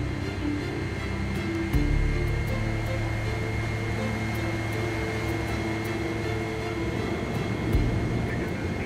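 An Airbus A380 being pushed back from the gate for takeoff gives a steady, loud broadband jet engine hum and whine, continuous and droning with a few faint thumps.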